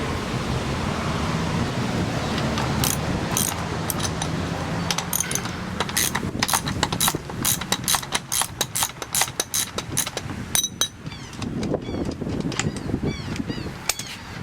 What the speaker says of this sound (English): Here's an adjustable wrench and here's a socket wrench with a 24mm socket. We're going to unscrew the rear axle nut.